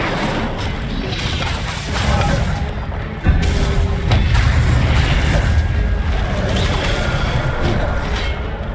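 Fire spell cast in the video game Hogwarts Legacy, with loud whooshing bursts and crashing impacts over continuous rumbling effects, including a sharp hit partway through.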